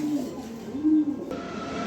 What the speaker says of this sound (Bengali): তো এই হচ্ছে একটা মিলি কবুতর